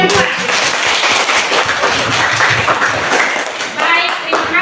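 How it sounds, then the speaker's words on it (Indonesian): A class applauds in a classroom after student presentations, with dense, close clapping that continues steadily throughout while voices talk over it. "Tepuk tangan untuk semua."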